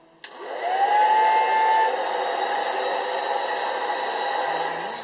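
A handheld hair dryer switches on with a click and blows hot air close to the face, a steady loud whooshing hum with a faint whine that holds on continuously.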